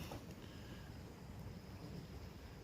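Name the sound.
propane camping stove burner lit and burning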